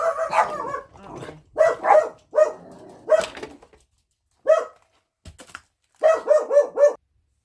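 Dogs bark repeatedly nearby, loud clustered barks in quick rhythmic runs separated by short pauses, ending in a rapid string of barks.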